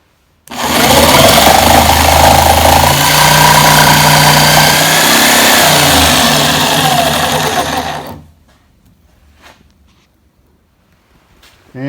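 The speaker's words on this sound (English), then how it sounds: "And now I'll just use a jigsaw and cut out the hole for the where the mud pit will be." A jigsaw cuts a hole in a board for a mud pit, a loud, close, buzzing saw sound for about eight seconds before it stops abruptly, leaving quiet handling noises afterward.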